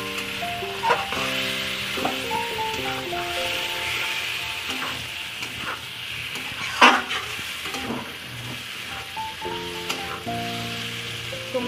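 Eggs and fried potato pieces are stirred into oily, well-fried spiced masala for an egg masoor dal dish: a constant sizzle with occasional spoon scrapes, close up, under steady background music.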